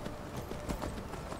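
Steady, rapid clip-clop of horse hooves at a trot in the video game Skyrim, continuous and even, with a faint background hum.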